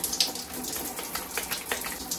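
Water from a tap runs steadily over a lotion pump being rinsed, a close, continuous splashing gush with small irregular spatters as the stream hits the plastic nozzle.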